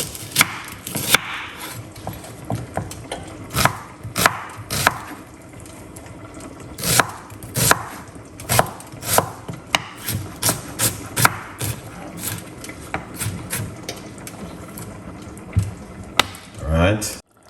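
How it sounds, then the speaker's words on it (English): A knife chops a white onion on a wooden board in irregular bursts of close, crisp thuds with short pauses between them. "I'm gonna get a white onion cut up."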